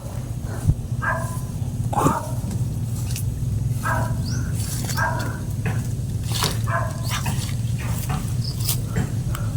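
A dog barks repeatedly in short, spaced outbursts at night during an outdoor camping outing, moderately close, over a constant low droning hum.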